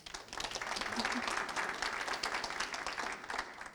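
An audience at a Cardiff community iftar applauds: dense, sustained clapping from a sizeable crowd fills the whole stretch at an even, fairly loud level.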